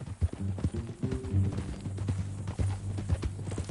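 Horse hooves clip-clop at a steady walking rhythm in the Red Dead Redemption 2 video game, close and moderately loud, with low tonal game sounds beneath the repeated hoof strikes.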